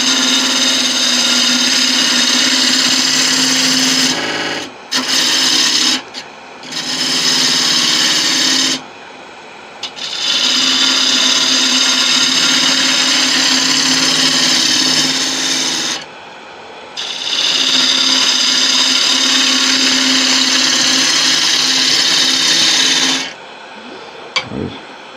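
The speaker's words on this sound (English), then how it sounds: "Now we're just going to start shaping the bowl." A wooden bowl is shaped on a woodturning lathe with a cutting tool, long loud scraping rasps over a steady spinning hum, broken by short pauses as the tool is lifted away.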